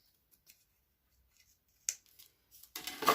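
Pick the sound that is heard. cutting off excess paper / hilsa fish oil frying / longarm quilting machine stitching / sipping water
cutting off excess paper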